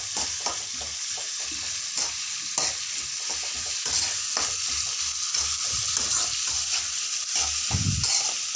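Onions fried over high flame in a pan for quick noodles, with a continuous crackling sizzle broken by regular scraping strokes of a spatula stirring close by.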